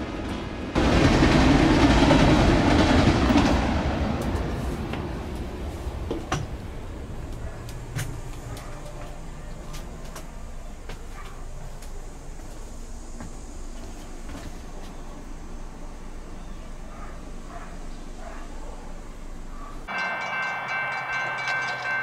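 A very long freight train pulled by a single locomotive passes a road crossing, opening with a loud, close roar and then settling into a steady rumble and rattle of passing cars, with ringing tones near the end.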